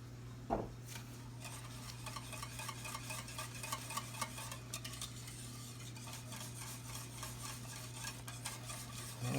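A spoon stirs and scrapes thick roux in a pot for turkey pot pie, giving soft, continuous scraping strokes over a low steady hum in a quiet kitchen.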